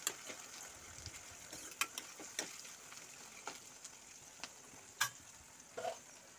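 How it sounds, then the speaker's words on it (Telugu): Onions fry in a pan with ginger garlic paste, giving a faint, soft sizzle broken by sharp scrapes and clicks from stirring. "అల్లం వెల్లుల్లి పేస్ట్ కూడా కలుపుకుంటూ బాగా గోలనివ్వాలి."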